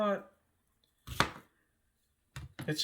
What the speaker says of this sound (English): Just cut the onions how you want to cut the onions, guys.